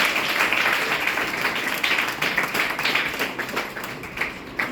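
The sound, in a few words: audience applauding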